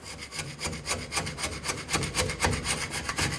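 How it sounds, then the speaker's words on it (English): A metal scraper rasps along the edge of a 1988-2000 Chevy C/K1500 differential cover, stripping off old gasket in quick, steady back-and-forth strokes that sound close and gritty. "Now I'm just going to take a scraper and I'll get along this entire edge"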